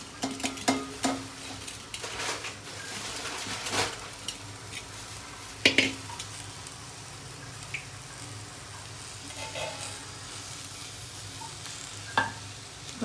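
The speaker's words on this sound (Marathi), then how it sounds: "मी पहिल्यांदा सर्व भाजून घेणार आहे" Curry ingredients dry-roast in a pan, giving a soft, steady low sizzle broken by occasional scrapes and taps of a utensil against the pan, fairly quiet and close.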